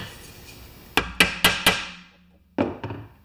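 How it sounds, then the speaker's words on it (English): Hammer strikes on a Poulan Pro mower blade adaptor part, four quick metallic blows in a row, a short pause, then two or three more ringing hits, close and loud. "Hammer."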